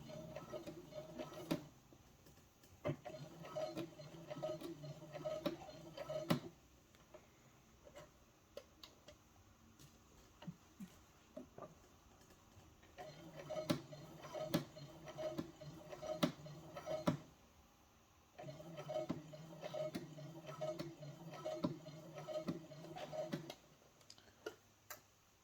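Sewing machine stitching fabric while facings and bias tape go onto a vest, running in rapid, even ticking bursts a few seconds long, separated by quiet pauses, close and moderately loud.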